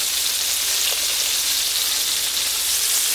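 Beef chunks for a slow-cooker stew sear in a hot pan, giving a steady, loud broadband sizzle with no pauses and nobody speaking.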